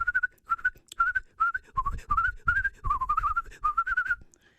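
A person whistles a run of short, bright chirping phrases in imitation of birds tweeting, repeated rhythmically about a dozen times, close and fairly quiet with small pauses between, during a children's Kwanzaa celebration in Ohio.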